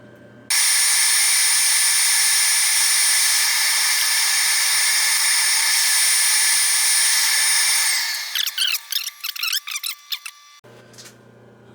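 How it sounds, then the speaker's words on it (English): Loud, steady high-pitched whine of a lathe cutting a chamfer edge on a turned part for a tooling build, holding for about eight seconds, then breaking into choppy squealing bursts before stopping. "I'm going to put a chamfer edge on here and a chamfer edge on the other side"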